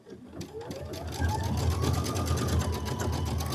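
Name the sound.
embroidery machine stitching out a flourish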